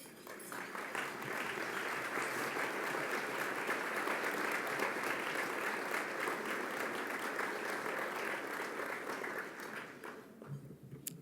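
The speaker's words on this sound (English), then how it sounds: "let's give them a round of applause" Sustained audience applause for board members standing at an annual regional planning meeting, a broad even wash of many hands clapping for around ten seconds before tapering off, somewhat distant in a large room.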